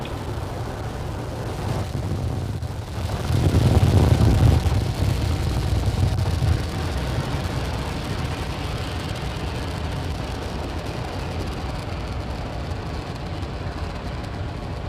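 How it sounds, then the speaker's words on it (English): A SpaceX Falcon 9 rocket lifts off from Launch Pad 39A at Kennedy Space Center in Florida on a Starlink mission, a distant, broad rumbling roar that swells for a few seconds and then settles into a steady low drone. "Falcon 9 successfully lifting off from Launch Pad 39A at the Kennedy Space Center in Florida"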